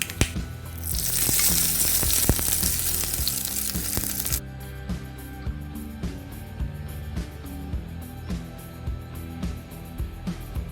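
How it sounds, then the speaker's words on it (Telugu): Tempering spices for cucumber chutney crackle and sizzle in hot oil, a dense hiss for several seconds that abruptly drops to quieter popping and light clinks. "వీటన్నిటిని వేగనిద్దాము. తాలింపు వేగిందండి."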